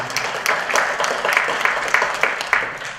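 A gathering at a temple event gives thanks to donors with clapping that comes in fairly regular, moderately loud pulses, close and steady for a few seconds.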